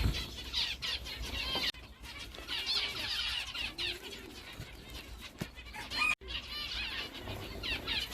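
Zebra finches and Indian nightingales in a breeding aviary on a warm spring day, with dense continuous chirping and twittering mixed with flurries of wing flaps, close and busy throughout.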